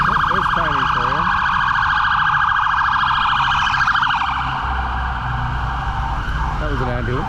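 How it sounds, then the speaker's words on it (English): An ambulance siren wails loudly along a street in Chiang Mai, its rising and falling tone passing close by over steady traffic noise, with brief whooping yelps at the start and end. "That was an ambulance."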